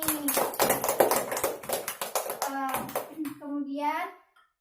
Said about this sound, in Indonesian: Tepuk tangan untuk Dani.